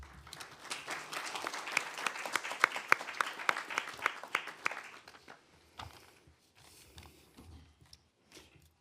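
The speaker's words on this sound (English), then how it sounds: "A round of applause for him," Audience at a county Board of Supervisors meeting claps for a speaker called forward, a sharp crackle of hands that peaks and then thins out over about five seconds, leaving quiet room sound with a few stray claps.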